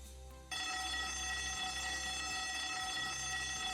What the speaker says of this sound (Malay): If you hear this alarm